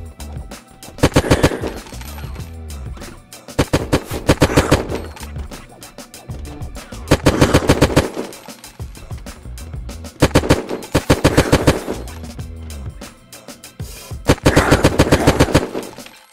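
Rapid automatic gunfire in Unturned erupts in repeated bursts of sharp, loud shots separated by brief pauses.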